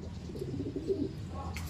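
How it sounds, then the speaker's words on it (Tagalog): Pigeon or dove cooing outdoors, soft low coos fairly close over steady background noise, with no talking. "meron tayong isang ibon dito na, ewan ko, hindi naman ako nagpaawala ng ibon, pero meron ditong ibon yan."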